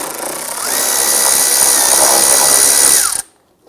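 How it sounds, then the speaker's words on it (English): A 10mm socket on a power tool loosens and removes a bumper bolt on a 2008-2013 Nissan Rogue, a steady whirring drill-like drone lasting about three seconds before cutting off abruptly, close and loud. "Using a 10mm socket, go ahead, loosen and remove the bolt."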